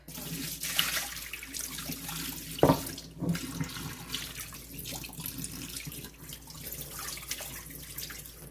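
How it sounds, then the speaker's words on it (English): Tap water runs steadily into a kitchen sink while breakfast dishes are rinsed, with a couple of brief clatters of dishware partway through; no one talks. "Alright, so we're going to rinse these out."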